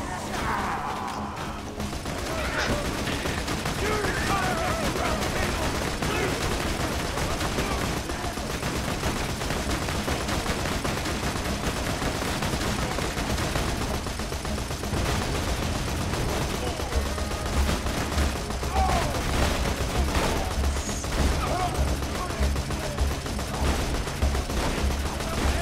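Borderlands 2 gunfire, dense continuous shooting and impacts from a first-person shooter with rapid bursts and crashes over a busy game mix, while players talk and bicker in the background.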